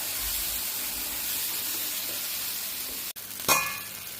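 A paneer paratha fries in ghee on a pan, giving a steady, close sizzling hiss with a brief sharp crackle near the end.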